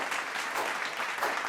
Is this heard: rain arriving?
no